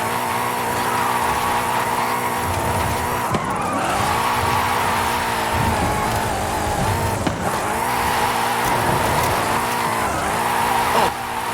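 A drift car in the Forza Horizon 5 racing game slides with squealing tires over a loud, continuous engine roar. The revs rise and fall in waves, with no talking.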